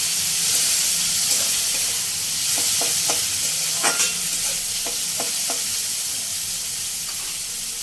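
Chopped onion, tomato and green chili fry in a pan for restaurant-style Chinese noodles, giving a loud, steady sizzle close by, broken by several short scraping stirs midway. No one speaks.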